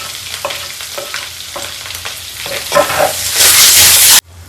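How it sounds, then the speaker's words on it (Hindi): Masala of onion and garlic frying in a pan, a steady close sizzle with stirring scrapes that swells into a loud hiss near the end before cutting off abruptly. "तो जब तक ये मसाला भून रहा था"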